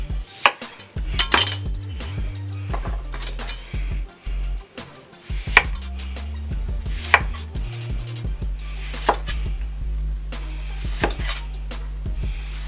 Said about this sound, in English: I'm gonna cut up some lemon here.